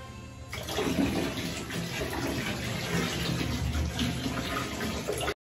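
Liquid bleach, about 1.27 liters of store-brand bottle, poured steadily into water in a tub or container for lightening dark denim jeans, a continuous close gushing splash lasting several seconds before stopping abruptly.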